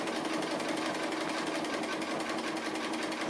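Sewing machine running steadily at close range, a fast even needle rattle with no pauses while fabric is moved freely for free-motion applique stitching.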